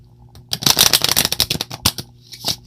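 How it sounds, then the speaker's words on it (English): A deck of tarot cards is shuffled up close in a quiet room, a dense run of crisp riffling flutters and soft slaps, then a few scattered flicks. "I will keep shuffling these cards"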